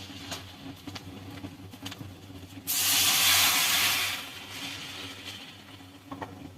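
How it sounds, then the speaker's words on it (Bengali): Water poured into a pan of frying Malabar spinach stir-fry bursts into a loud hissing sizzle. The sizzle lasts just over a second, then settles into a softer bubbling crackle. "এবার এর মধ্যে জল দিয়ে দেব।"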